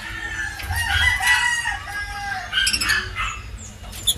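Chickens cluck while a rooster crows in a backyard flock, the calls loud and close, overlapping in bursts across the stretch.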